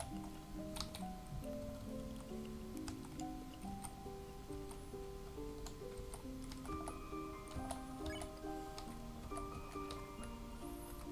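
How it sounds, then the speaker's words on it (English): Characters in the Deltarune video game drinking water: repeated soft squishy drips and ticking sips over a steady melodic game soundtrack, with no talking. "Seems like they're drinking water."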